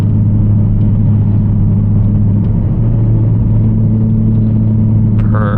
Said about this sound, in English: open her up a bit and enjoy the exhaust